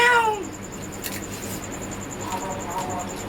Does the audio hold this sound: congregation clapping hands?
no